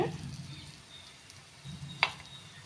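A snack fries quietly in hot oil with a soft, steady sizzle as it is turned, broken by one brief clink of a utensil against the pan.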